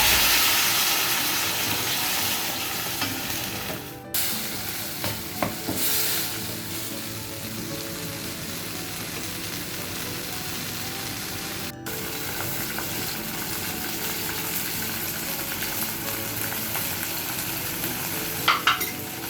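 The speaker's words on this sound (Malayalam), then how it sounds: "ഇതിലേക്ക് ടൊമാറ്റോ ഇട്ട്" Tomatoes sizzle in a hot pan with dried chillies, a continuous close frying hiss with occasional stirring scrapes and small pops as the chutney cooks.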